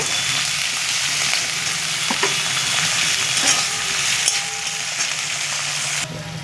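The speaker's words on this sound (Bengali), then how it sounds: "দুটো পেঁয়াজ দিয়েছি, টমেটো কুচি দিয়ে দিচ্ছি একটা। এটা আমি ভালো করে ভেজে নেব।" Onions and chopped tomato fry in a pan with a steady, close sizzle, broken by a few faint scrapes of stirring and with no voices.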